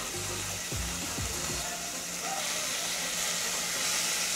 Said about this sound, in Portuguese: Deixa fritando.